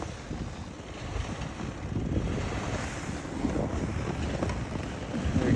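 A car drives in through a severe blizzard in freezing temperatures, heard as a steady roar of wind buffeting and rumbling road noise that swells slightly over several seconds.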